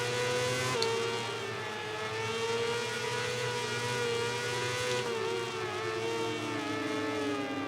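Racing motorcycle engine in MotoGP 18 braking into a corner at Silverstone, a steady high whine dropping in pitch with faint tonal shifts, loud and continuous with no talk.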